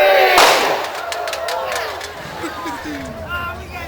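A single loud gunshot fired at a pop can during a western gunfight show at an outdoor festival, a sharp blast at the start followed by a crowd reacting with voices and chatter.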